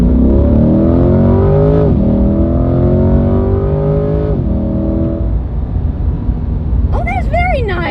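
A loud Corvette C8 engine revs up repeatedly in rising, high-pitched wails, close by, with voices over it and a squeal near the end.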